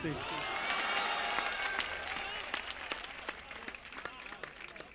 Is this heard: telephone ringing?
no